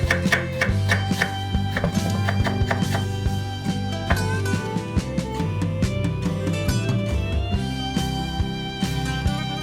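A knife chopping vegetables on a cutting board in quick, steady, close taps, with a rapid run of strokes early on and a slower rhythm afterward.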